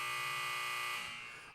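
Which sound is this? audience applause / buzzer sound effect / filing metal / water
buzzer sound effect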